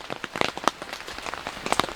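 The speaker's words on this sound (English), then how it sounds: "I love the sound of the rain hitting the tent." Rain patters unevenly on a taut new tent surface while Jeep camping, individual drops tapping loudly and close over a soft wet hiss.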